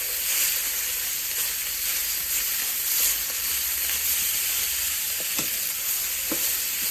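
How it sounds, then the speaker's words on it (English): Meat searing in an already hot pan produces a steady, bright sizzle and crackle with a few sharper pops, close and continuous with no voices. "Searing your meat is a good way to keep the good flavor."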